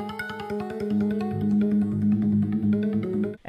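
The Syncope sample pattern from Expand plays as a syncopated run of short tonal notes with a bright melodic line, steady and up front, before a brief dropout near the end.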